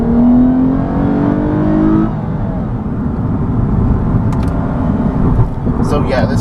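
A 2014 Lexus IS350 F Sport in sport mode accelerates hard, its engine note climbing as it revs before settling into a loud, steady roar, heard from inside the car.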